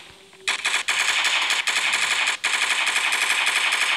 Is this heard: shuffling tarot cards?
no